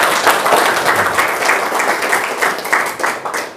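A crowd at a high school event in Indonesia applauds in a full, continuous wash of clapping, loud and close throughout, with a few sharper individual claps standing out and no speech over it.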